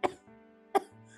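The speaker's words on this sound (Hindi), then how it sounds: "माँ को खांसी हो रही है" A woman coughs twice, with two sharp, close coughs about three quarters of a second apart and a faint tonal background hum between them.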